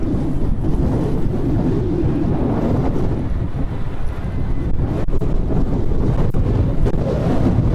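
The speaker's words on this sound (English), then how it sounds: "it's just blowing me out, so I can't hear anything except the wind" Heavy, constant wind buffeting rumbles into the microphone, a dense low roar with gusty fluctuations that drowns out everything else.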